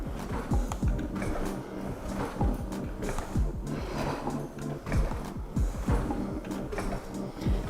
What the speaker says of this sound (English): So the carriage moves, gliding up and down.